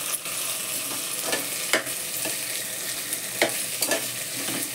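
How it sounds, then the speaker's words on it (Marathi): Mixed vegetables, including tondli, sautéing in a pan: a steady close sizzle with intermittent scraping clinks of a spoon as they are stirred, no talking. "हे जरा परतू देते चांगलं."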